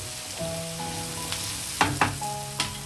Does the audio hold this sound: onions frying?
yes